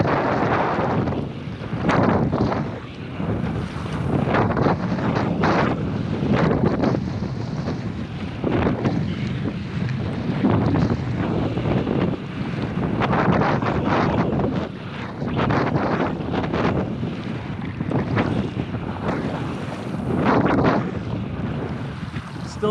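Strong wind roars across the microphone while choppy waves slap and wash around a Pungo 140 kayak being paddled on a windy day, a loud continuous rush with rhythmic splashes and no talking.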